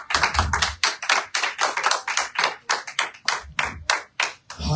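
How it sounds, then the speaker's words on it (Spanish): A church congregation claps in a fast, steady rhythm, many hands striking together in an even beat that runs continuously and loudly, with no voices. "denle un aplauso fuerte al Señor"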